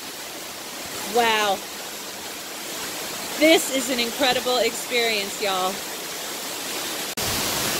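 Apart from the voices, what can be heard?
waterfall at Kings Canyon, California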